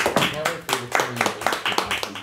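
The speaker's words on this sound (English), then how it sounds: "Round of applause, everybody." A brief round of hand clapping from a few people, with quick, uneven claps close by and no talking over them.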